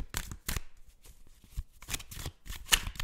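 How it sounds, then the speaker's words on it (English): Tarot cards are shuffled in quick bursts of riffling and slapping, several separate shuffles with brief pauses between them, close and crisp with no voices. "I'm going to shuffle the tarot based on writer."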